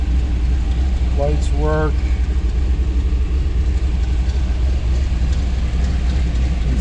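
A 1962 fuel-injected car engine runs at a steady, loud low idle throughout, with someone talking briefly over it.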